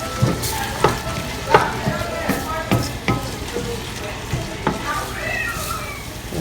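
Shrimp and peppers fry in a pan, a steady close sizzle broken by repeated sharp scrapes and taps of a utensil stirring them.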